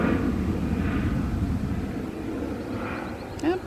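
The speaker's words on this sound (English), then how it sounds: "And there goes an airplane." An airplane passes close to an airport, a steady broad engine roar that holds level through the whole stretch with no voices.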